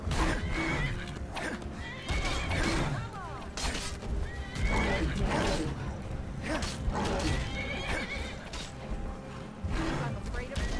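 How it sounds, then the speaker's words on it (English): A horse in the video game Skyrim neighs and whinnies loudly several times during a fight with a troll, the calls repeating amid clip-clopping hooves and combat clatter, with a voice talking over it. "Even the horse joins the fight."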